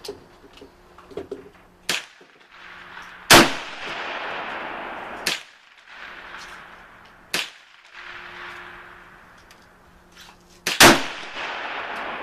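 A Hungarian AMD 65 rifle fires about six sharp, very loud shots at an outdoor range, spaced a second or more apart. Each crack is followed by a long echoing decay.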